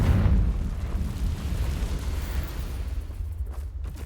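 A Confringo blasting spell explodes in the Hogwarts Legacy game, a loud deep boom that opens with a heavy low burst and rumbles on in a dense, fading roar.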